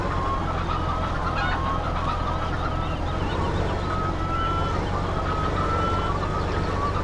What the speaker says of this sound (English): Chickens, you're making a little noise. Too much noise.